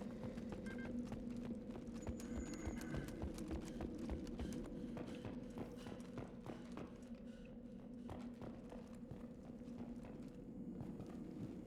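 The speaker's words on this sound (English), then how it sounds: "Why are my footsteps so absurdly loud?" Heavy footsteps in the video game Mass Effect 2, a steady run of loud, clacking steps over a low ambient hum, continuing throughout with no talk.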